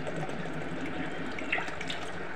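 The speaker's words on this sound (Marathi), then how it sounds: "आता मी हे पल्प घालते ह्याच्यामध्ये ग्लासमध्ये आणि थंड पाणी घालते" Cold water is poured into a glass holding raw mango pulp for a summer drink, a steady soft trickle running on without a break.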